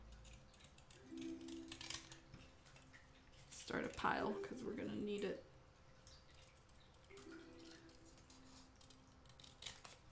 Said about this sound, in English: Can you guys hear the cutting sounds?